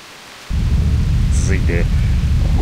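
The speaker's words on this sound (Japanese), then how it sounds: "ある日、激しい嵐が村を襲った。" Violent storm from the video game Grandia II: a sudden loud onset of heavy rain and deep thunder rumble after a quiet start, sustained roaring wash with a few faint tonal chirps on top.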